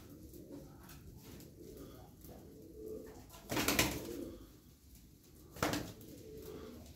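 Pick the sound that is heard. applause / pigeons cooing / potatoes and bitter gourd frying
pigeons cooing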